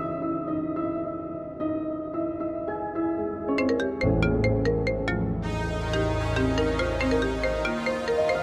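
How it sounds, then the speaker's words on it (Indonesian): A melodic electronic phone ringtone chimes in repeating bursts through a tense scene in an Indonesian drama, layered over swelling background music, with no one speaking. "Angkat aja teleponnya, siapa tahu penting."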